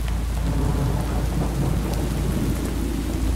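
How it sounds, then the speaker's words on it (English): Steady heavy rain with rumbling thunder in a horror video game mod, a dense continuous roar that stays loud and close throughout, with no voices over it. "Oh, and it's raining. Of course it's raining."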